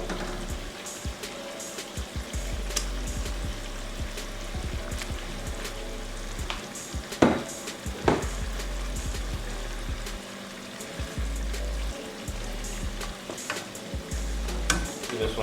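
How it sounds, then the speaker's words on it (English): Fish sizzles and fries as it goes into a brown stew sauce in a pan, with a steady crackling hiss, soft stirring scrapes and a few sharper pops near the middle. "I'm going to add the fish to the sauce now."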